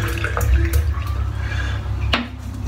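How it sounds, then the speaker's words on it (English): A shaving brush is wet under a running tap in a bathroom sink, giving a steady rush and splash of water with a few knocks and clinks over it, and no speech. "I'll just wet the brush."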